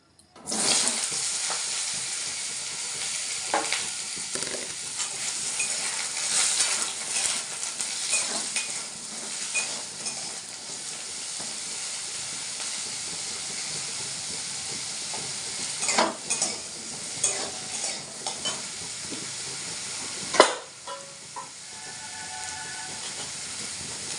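Besan chilka frying in hot oil with a steady, close sizzle and hiss lasting throughout, broken by scattered stirring scrapes and a sharp clatter near the end.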